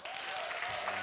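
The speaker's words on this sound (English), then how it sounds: "can we have a round of applause for John Burkhardt?" Conference audience gives a speaker a round of applause, a brief dense wash of clapping from a crowd in a hall, steady and moderately loud.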